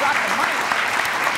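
A crowd gives a brief round of applause for an evening panel discussion, dense clapping heard up close throughout the short moment, with faint voices beneath.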